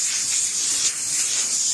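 Paint spray gun spraying a panel, a steady, loud high-pitched hiss of atomized air and paint running continuously and close up without pause.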